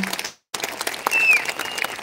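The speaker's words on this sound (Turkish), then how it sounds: "Bu dünya güzeli hanımefendiye de bir alkış istiyorum" Audience applause at a Circassian culture festival in Uzunyayla, Turkey: dense crowd clapping that cuts out briefly, then resumes steadily, with a whistle-like tone over it.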